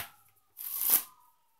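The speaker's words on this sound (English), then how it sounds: "So I give the deck another shuffle." A deck of playing cards shuffled during a magic trick, one brief riffling burst that swells and fades, close and moderately loud against near silence.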